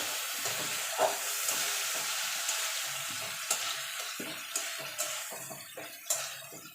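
Ginger, green chili and tomato fry in a pan, a constant close sizzling hiss broken by intermittent scrapes and clinks as the mixture is stirred.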